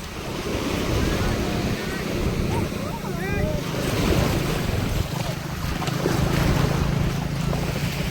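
Sea waves wash up at Mandvi beach in Gujarat, breaking in steady surges through heavy wind buffeting on the microphone. Some faint chirping cries briefly cut through the surf midway.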